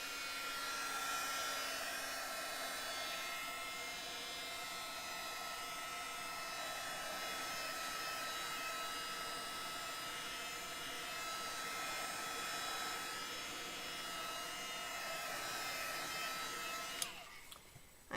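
Handheld hair dryer blowing steadily on a freshly painted art canvas, a continuous close, loud whoosh with a faint high whine, cutting off abruptly near the end.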